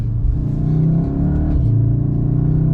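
Volkswagen Golf 7R hatchback in race mode with active sound enhancement pulls up through the revs from inside the cabin, a steady loud engine drone rising in pitch without a break.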